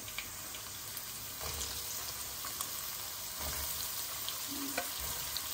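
Coriander seeds and ridge gourd pieces fry in a pan with a soft, continuous sizzle, broken by faint scraping stirs and small pops at close range.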